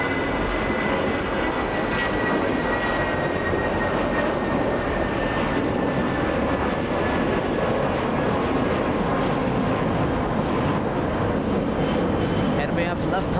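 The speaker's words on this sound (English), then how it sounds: "Here goes another banana plane takeoff, flying to Atlanta, Georgia this time." A Boeing 767 jet bound for Atlanta takes off at Los Angeles International Airport with a continuous, moderately loud engine roar that stays steady throughout, with a faint whine riding above it.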